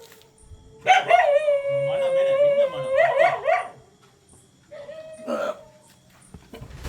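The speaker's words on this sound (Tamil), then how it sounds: "நாய் குலைக்கவும் பாருங்க" A dog gives two drawn-out whining, howl-like calls at night while a pet snake is being caught; the first call is long and wavering, the second short, both fairly close, with faint background noise between.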